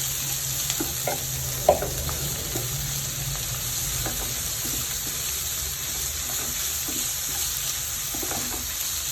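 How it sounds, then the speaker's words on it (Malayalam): Chopped shallots fry in a pan with a steady sizzle. Occasional stirring taps and scrapes sound close by, with no talk. "കൊച്ചുള്ളി അരിഞ്ഞു വെച്ചതും കൂടെ ചേർത്ത് കൊടുക്കാം"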